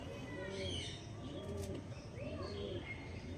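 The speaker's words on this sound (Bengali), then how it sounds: "এটা মাদা পায়রা" Andhra racing pigeons coo in low, rounded, repeated phrases, close and steady, with faint higher chirps above and a voice speaking briefly nearby.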